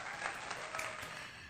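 High school students in an Indonesian classroom give a short burst of applause, a soft, fairly distant patter of claps that fades out within about a second.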